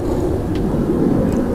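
A helicopter passes overhead outdoors during a meal of fish head curry, a steady low rotor rumble filling the background with no distinct beats, fairly loud and continuous.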